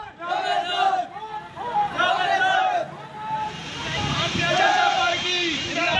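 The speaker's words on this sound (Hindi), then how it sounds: "ये गोरखपुर में चुनाव प्रचार की भीड़ है" Crowd at an election campaign rally in Gorakhpur, loud chanting and shouting voices rising in waves with background hubbub.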